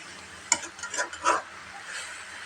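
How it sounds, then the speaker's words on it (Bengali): Amaranth stem greens (data shak) stir-fry in a pan with a soft sizzle. A few distinct scrapes and clinks from stirring stand out, close and fairly quiet. "তাই আজকে আমি এই ডাটা শাকটারে ভাজি করতেছি"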